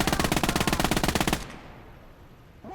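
Machine gun burst in the World War II game Gates of Hell, a rapid run of sharp, loud shots lasting over a second, then cutting off into quiet background noise.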